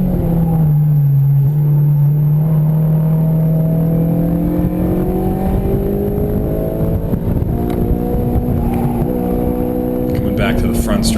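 A Honda Civic Si engine revs and pulls hard in second gear down a race track straightaway, its steadily rising drone loud and continuous from start to finish.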